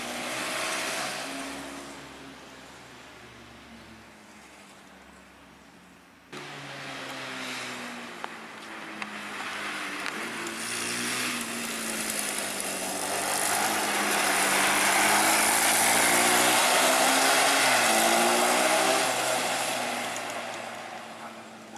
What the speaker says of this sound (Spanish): el ruido que hace la chapa esa que le puse como piso es horrible